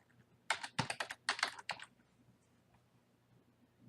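Quick burst of typing on a computer keyboard while entering a login password, about a dozen close, crisp key clicks over one and a half seconds, then quiet room tone.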